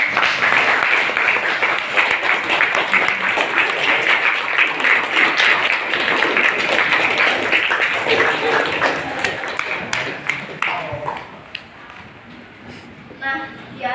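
A classroom audience applauds after a presentation, with dense, sustained clapping for about ten seconds that thins out and fades into a few scattered claps near the end.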